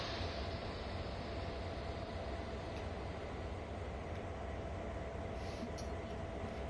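A steam locomotive on the Sand Patch Grade in Train Sim World 5 lets off steam, a faint, continuous broadband hiss over a low rail rumble that stays even throughout.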